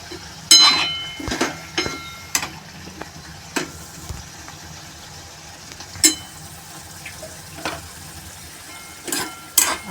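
A spoon scraping and clinking in a pan of gatta sabzi, the gram-flour dumplings simmering in curry with their cooking water added, giving sharp irregular taps over a soft bubbling background, no talk.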